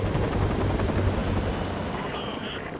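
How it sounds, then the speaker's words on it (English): Enemy helicopters in the Call of Duty Modern Warfare Remastered video game produce a steady, loud rotor thrum and engine roar that fills the whole stretch, with a faint higher tone briefly near the end. "Enemy helicopters."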